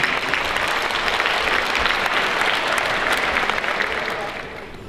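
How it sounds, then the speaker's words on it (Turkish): An audience at the Eskişehir Yörük Türkmen council and festival gives sustained, dense applause at a ceremony. The clapping holds steady, then tapers off slightly at the end. "sizlere hitap etmek için alkışlarınızı da buraya davet ediyorum."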